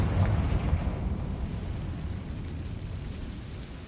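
A Confringo fire spell explodes in Hogwarts Legacy, heard as a heavy rumbling blast that opens loud and slowly fades into a long, noisy roar.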